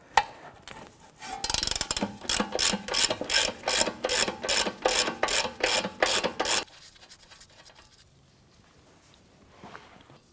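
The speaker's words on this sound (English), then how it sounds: "Using our 17mm socket, I'm gonna go ahead and pull that nut off." Ratchet wrench with a 17mm socket turning off the front axle nut on a 2004-2008 Acura TL, a rapid series of about a dozen rasping clicks in steady rhythm, close and loud, then quieter shop ambience.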